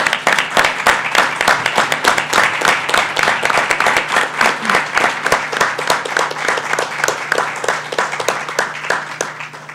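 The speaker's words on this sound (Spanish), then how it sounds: "realmente estaríamos todos dándole un merecido aplauso," Panel audience at a disability rights anniversary event giving sustained, loud applause, many hands clapping in a dense, fairly rhythmic stream close to the microphone for about ten seconds.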